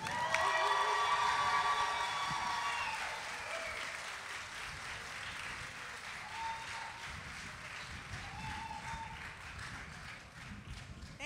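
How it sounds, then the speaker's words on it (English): An audience at an outdoor Chicago Latin jazz festival applauds and cheers for a performing duo, clapping loud at first then settling into a steady patter with a few whoops over the top. "please give a big round of applause to Nythia Martinez"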